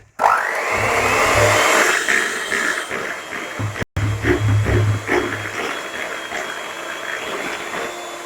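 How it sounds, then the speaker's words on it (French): Electric mixer beating a chocolate and mascarpone cake batter, a steady close whir that runs continuously, cuts out briefly, then resumes with faint scraping knocks. "je vais continuer de battre un petit peu"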